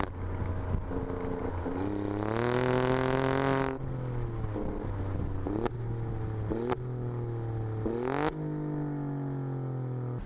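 Alfa Romeo Stelvio Quadrifoglio, 510 hp, with exhaust valves opened in its track-oriented driving mode, revving hard through rising engine notes, one sharp climb then several gear changes punctuated by crisp exhaust cracks, loud and close.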